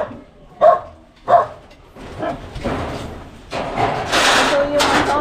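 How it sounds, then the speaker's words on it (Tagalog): A dog barks twice in quick succession, close by, during a cobra search around a house in Los Baños, Laguna, followed by people talking amid background noise. "May aso po dito."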